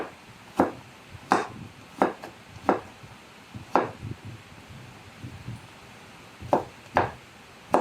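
A knife chops an ingredient into small cubes for a macaroni chicken salad, with sharp, close board knocks arriving in loose, irregular strokes separated by quieter pauses.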